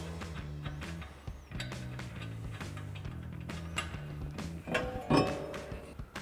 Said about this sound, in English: Now you can remove the lug nut and just slide the rotor off.